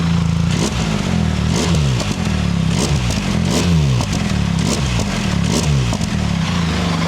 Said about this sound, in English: can you hear that overrun?